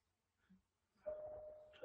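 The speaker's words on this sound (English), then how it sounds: "But I keep hearing that doggone doorbell sound." A computer system gives a faint, single electronic doorbell chime. A short, sustained tone rings against a quiet background.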